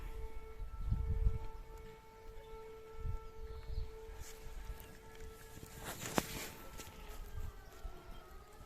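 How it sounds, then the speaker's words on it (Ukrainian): Outdoor setting near a vegetable tunnel, with a distant, faint air-raid siren holding steady tones in the background, plus soft footsteps and rustling nearby. "Якщо вам чуть сирену."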